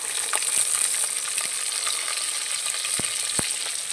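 Chopped onions fry in hot oil with cardamom, cinnamon and cloves for a chicken and potato curry, giving a steady dense sizzle with occasional soft spatula knocks against the pan and no talking.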